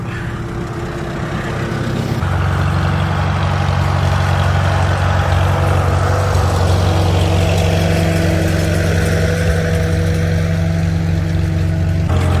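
A Farmall H tractor chugs along in first gear, a steady low engine drone that steps up slightly in load after a couple of seconds, then holds an even, close, continuous putter with no talk.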